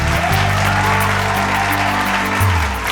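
Judges and audience applaud at a studio round of an Odia singing talent show, a dense, steady wash of clapping lasting the whole stretch with a faint musical tone beneath it.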